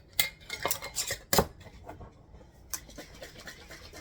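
Lid handled and fitted onto a glass jar of homemade pickled bologna in vinegar, a cluster of sharp clinks and taps near the start, then quieter scraping and small knocks close by.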